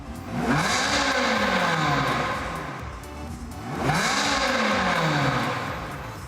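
A car engine revs hard on the open road in two long surges. Each one climbs in pitch and then falls away, loud and steady throughout.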